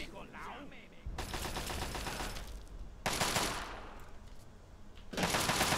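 Rapid automatic gunfire in the Fallout 3 video game, three loud sustained bursts of several seconds each separated by short lulls of background noise.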